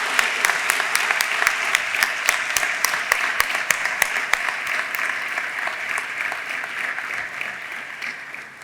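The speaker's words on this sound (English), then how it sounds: "Please join me in a round of applause" A seated audience at an Electrochemical Society plenary session gives a round of applause, a full patter of clapping with a few sharp, close individual claps standing out before it tapers off.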